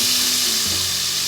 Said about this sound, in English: You should hear a good sizzle when this